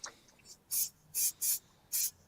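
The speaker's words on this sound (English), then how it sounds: "Don't ever spray paint in your bedroom." An aerosol can spray-painting a scale model indoors gives four short, bright hissing bursts in an uneven rhythm, close and fairly faint, with quiet between them.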